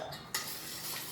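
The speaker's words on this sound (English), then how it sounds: "Mix all this." Bread pudding mixture with melted butter being stirred in a bowl, a brief wet scraping swirl with a sharper clink partway through, close and alone.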